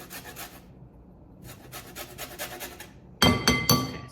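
Lemon zested on a grater, short bursts of dry rasping strokes with brief pauses, followed by louder clinks and taps near the end.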